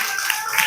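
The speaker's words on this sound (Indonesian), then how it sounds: "Tepuk tangan untuk Pak Ustadz lagi" A group of children at an Al-Maghfirah prayer room clap for their Islamic teacher, a brisk patter of many hands, close and lively, with no clear talking over it.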